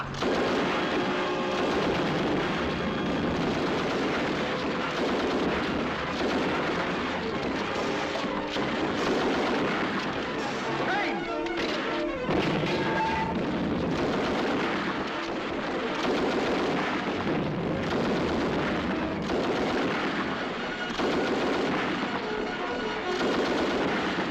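Sustained gunfire and artillery from a 1944 British war film battle scene, dense continuous bursts and heavy booms filling the whole stretch, loud and close with no pauses.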